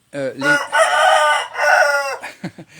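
A rooster crows loudly and close in a village in Thailand's Isan region, one long strained cock-a-doodle-doo with clucking after it.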